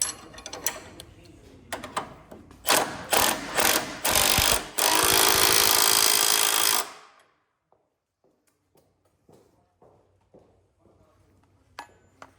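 Power tool zipping and ratcheting as bolts are run down on the front differential of a 2014 Chevy Silverado 1500 4x4, several loud close bursts ending in a sustained whir that stops abruptly, followed by faint clinks and quiet shop noise.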